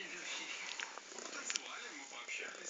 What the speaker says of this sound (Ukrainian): О, муркоч.